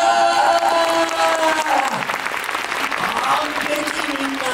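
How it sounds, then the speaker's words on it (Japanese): A large audience at a Universal Studios Japan monster rock-and-roll live show claps loudly and continuously, a dense crowd applause that swells and rolls along, with a voice calling over it now and then. "向こうに向かって拍手ウェーブ開始。"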